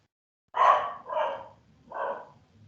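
A dog barks three times at a steady spacing, fairly close and loud, in an otherwise quiet indoor setting during an online lecture.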